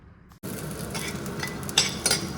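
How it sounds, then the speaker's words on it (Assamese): Onions sizzle in a hot pan while Maggi noodles are being made, a steady close frying hiss with a few clinks of a utensil stirring against the pan. "চ' ইয়াত পিঁয়াজ ভাজি আছোঁ"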